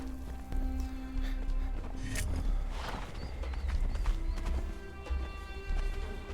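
Hoofbeats of a ridden horse in the video game Conan Exiles thud in a rhythmic clip-clop under game ambience, steady and close throughout.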